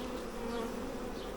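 Many honey bees from a caught swarm drone in a thick, unbroken buzz as they fly toward and crowd into a nuc box entrance, close to the ear, with individual wingbeats rising and falling within the hum.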